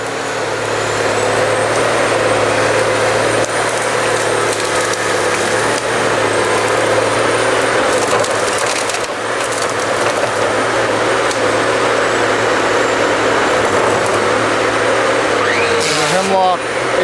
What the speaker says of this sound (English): This is the processor. It's just a very expensive axe and saw.